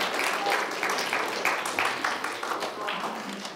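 An audience at a popular-science lecture on atomic nuclei and neutron stars claps in a dense, steady round of applause.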